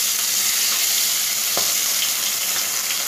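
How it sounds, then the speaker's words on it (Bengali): Pabda fish fry in hot mustard oil with a loud, steady, close sizzle and crackle that holds evenly throughout, with no voices. "এবার আমি মাছগুলো দিয়ে দেব।"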